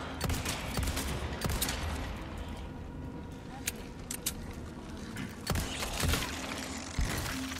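Gunshots in the Resident Evil 4 remake, several sharp cracks spaced irregularly over a continuous rumbling game background, some close together, with talk over them.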